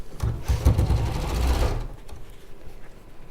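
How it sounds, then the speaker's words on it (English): Domestic sewing machine running a long seam, a steady mechanical whir and clatter for about two seconds that then stops, leaving quiet room tone. "you're going to sew along that long seam"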